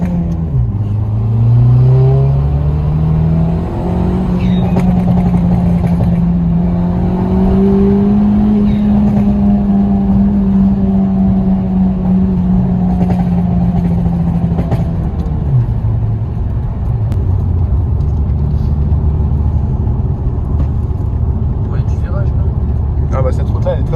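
Ford Fiesta ST rally car engine on a road, revving loud and close with sustained rising and falling drone, then settling lower; a voice talks over it.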